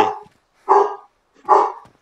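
A dog gives three loud, sharp barks at even intervals, close by, with silence between them.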